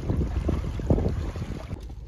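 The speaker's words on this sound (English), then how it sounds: "It's really windy, really nasty, and now it's raining." Strong wind buffets the microphone in heavy, continuous low rumbling gusts on a mountain trout-fishing trip, with water sloshing faintly underneath and no voices.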